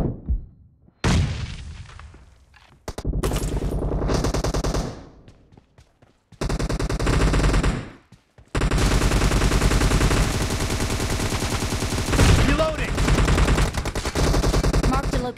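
Sustained automatic M762 rifle fire in a video game, long rapid bursts of loud, dense shots broken by brief pauses, the last burst running steadily to the end.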